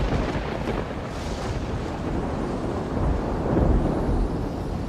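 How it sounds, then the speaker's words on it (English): A winter storm rolls in over the sea off the coast, heard as a continuous loud, deep rumbling roar of wind and heavy weather with no voices. "As winter intensifies, more storms blow in from the south."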